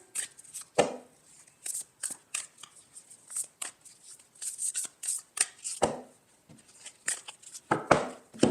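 Oracle of the Angels tarot cards are shuffled by hand, giving a run of quick, close riffling and slapping bursts in an uneven rhythm, with no talking.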